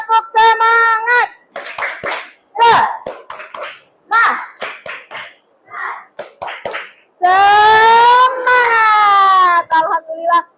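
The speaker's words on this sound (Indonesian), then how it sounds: "ayo semuanya tepuk semangat" Students in a classroom perform the 'tepuk semangat' clapping chant, crisp rhythmic hand claps in bursts alternating with children's chanted voices, ending in a loud, sustained group shout.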